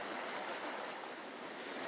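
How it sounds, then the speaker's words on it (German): Polluted groundwater pumped out of the ground and pouring into a stream in Lusatia, a steady, dense rushing and splashing of water, close and constant with no talk. "Momentan wird das belastete Grundwasser abgepumpt und fließt in einen Bach."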